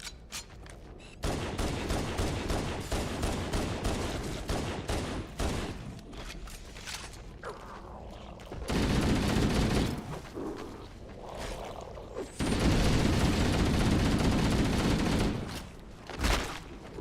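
Pistol fire in Halo: Combat Evolved crackles in rapid repeated volleys, loud and close, with dense bursts of shots separated by brief lulls.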